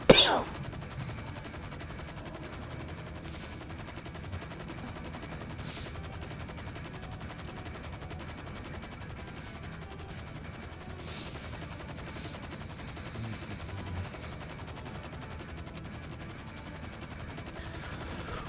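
Bursts of game gunfire from a PS4 shooter, sustained and fairly quiet, with rapid machine-gun rattles over a constant background rumble after a loud opening hit.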